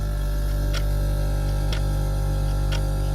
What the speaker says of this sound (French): Le son des vieilles cuisines avec l'horloge.